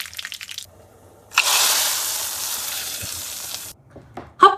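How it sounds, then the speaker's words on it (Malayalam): Green chillies and curry leaves dropped into hot oil while finishing a Kerala sadhya sambar, giving a loud burst of sizzling and spluttering that holds steady for about two seconds, then cuts off, with quieter stirring clatter before and after. "പൊട്ടിക്കഴിയുമ്പോൾ പച്ചമുളകും കരിവേപ്പിലയും കൂടെ ഇട്ട് കൊടുത്തിട്ട് നമുക്ക് വാങ്ങാം."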